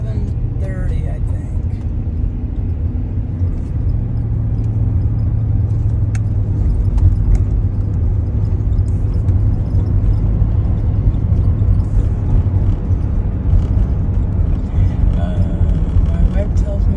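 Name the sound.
car driving home on the road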